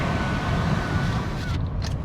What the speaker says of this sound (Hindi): हालांकि अभी भी थोड़ी टायर नॉइज, थोड़ी सी इंजन की साउंड आती है अंदर